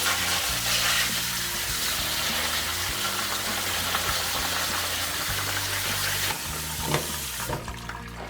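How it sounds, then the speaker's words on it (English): Running water pours steadily from a tap, with rustling and clatter as green beans are rinsed in a sink, loud and close. "give the green beans a little bit of a wash"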